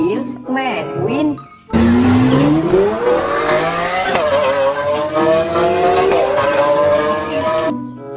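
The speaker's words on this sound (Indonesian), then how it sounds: "mobil McQueen," A toy Lightning McQueen race car plays an electronic engine effect, a loud rising revving roar that holds steady for several seconds after a short spoken phrase.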